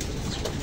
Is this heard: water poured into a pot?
no